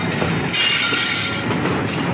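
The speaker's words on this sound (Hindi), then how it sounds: "ये है गुटी के WDM3A ट्विंस, जिसमें एक है किंगफिशर लिवरी और एक जो है नॉर्मल लिवरी है ब्लू कलर का लोकोमोटिव" Twin WDM3A diesel locomotives from Gooty, one in Kingfisher livery and one in blue, rumble past near Jaipur. A steady heavy diesel drone mixes with rolling wheel noise and faint rail squeal, continuous and fairly close.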